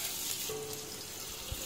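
Spice paste of dried chilli, coriander and turmeric powder mixed with water, poured into hot oil in a kadai, sizzling softly and steadily with a faint stirring bump near the end.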